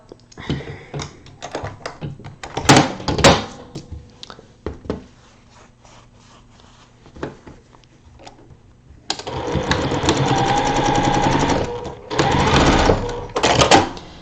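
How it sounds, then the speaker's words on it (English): A sewing machine backstitches a seam while piecing a partial seam, with light handling clicks and taps before two loud, close bursts of stitching separated by a short pause. "I backstitched at the beginning and end of that"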